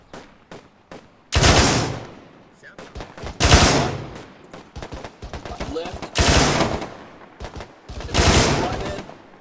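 Bursts of automatic gunfire in Arma 3, several loud sustained volleys with single shots scattered between them, close and sharp.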